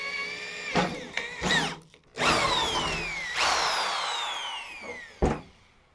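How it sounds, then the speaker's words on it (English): A power drill with a 1/4 inch bit bores holes for Motobilt half-door soft upper adapters, its motor whining in bursts that start, bite and spin down, loud and close with short pauses. "Then it's a 1/4 inch drill bit."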